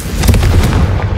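A Confringo fire spell blast in Hogwarts Legacy on PS5, a loud booming burst with a dense rumbling low end that sustains briefly without any talk.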